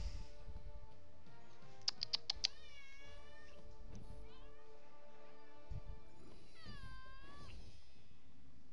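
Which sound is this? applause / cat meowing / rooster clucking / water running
cat meowing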